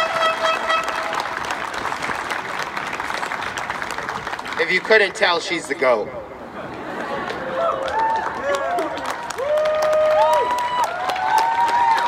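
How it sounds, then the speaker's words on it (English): At a justice rally, a crowd applauds and cheers in a dense, steady roar of clapping for several seconds, which then thins as a single voice speaks over lingering applause. "Clap it up one more time. Go ahead, keep it clapping."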